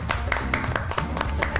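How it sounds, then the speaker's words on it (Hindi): A studio audience claps to welcome a guest onto a Pakistani television talk show, a short steady patter of applause fairly close, with sharper individual claps standing out. "तो आप तमाम लोगों की भरपूर तालियों में हमारे अगले मेहमान जनाब उस्मान नसीम।"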